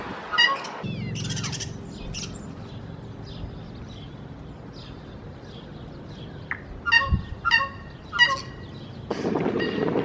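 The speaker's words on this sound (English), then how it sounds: "what you can hear is a tui" Varied tui calls ring out in bursts, bright chirps and whistly phrases over steady wind and low rumble, with a louder cluster of notes near the end, in New Zealand forest.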